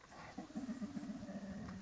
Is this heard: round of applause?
no